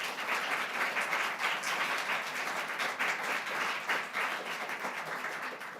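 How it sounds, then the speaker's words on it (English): Applause fills a medical honor society induction ceremony, dense steady clapping from a seated audience that holds evenly throughout and tapers slightly at the end. "So a round of applause for Dr. Manning."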